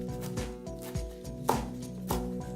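A knife roughly chops mint leaves on a cutting board in close, regular thuds, about two to three per second, with no voice over them.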